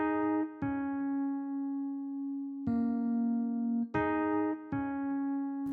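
A Stage 73 electric piano plays a simple sustained chord, struck again about four times, each attack ringing clear and steady on its own with no other sound.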